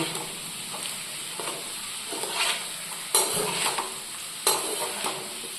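Potatoes frying in a pan, a soft steady sizzle with light stirring scrapes and a couple of sharper utensil knocks against the pan.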